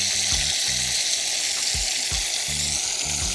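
Chunks of oxtail sizzle in hot oil in a pot with a continuous crackling hiss, and low clunks and scrapes of pieces being moved recur every half second or so.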